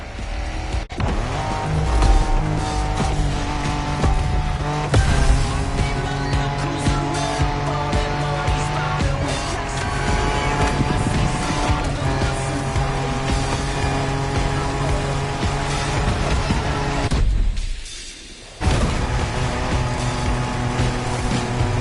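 Off-road race cars in The Crew Motorfest roar steadily and loudly with engine drone and tire noise, dropping out briefly near the end before the racing sound resumes.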